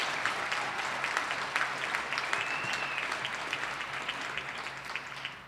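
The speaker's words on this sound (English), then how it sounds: "Round of applause for them as well." Sustained audience applause fills a winter commencement ceremony hall in Albany, NY, a dense steady wash of many hands clapping at moderate level, with a faint whistle-like tone briefly rising above it.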